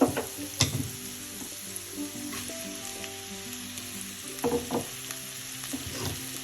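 Spinach frying in hot oil for a Kerala cheera parippu thoran, a steady crackling sizzle with occasional louder scrapes and clinks as it is stirred in the pan.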